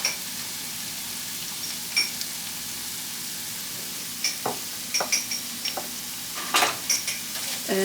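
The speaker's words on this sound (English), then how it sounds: "At this point, add the garlic." Garlic sizzles steadily in a hot pan while a utensil stirs it, with a run of sharp scraping clicks that cluster toward the end, close and alone.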